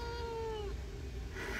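A Siamese cat at an animal adoption center lets out a single drawn-out meow, close and clear, trailing off after under a second into quiet room noise.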